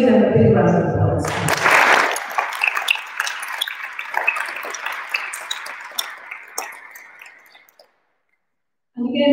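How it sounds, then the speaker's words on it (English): At a school celebration, an audience breaks into scattered applause after a louder opening sound. The clapping thins gradually before cutting to silence, and another sound briefly returns at the very end. "So I would like you to give them a big round of applause."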